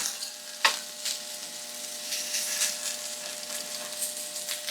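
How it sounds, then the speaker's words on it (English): Steak searing in a pan after a flip sizzles steadily and up close, broken by a few sharp crackles and pops and no voices. "let's give this steak a flip"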